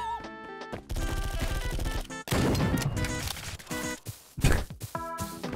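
Rapid bursts of gunfire and crashing impacts from a web-based Call of Duty clone shooter game, dense and loud with short pauses between volleys, layered over game music.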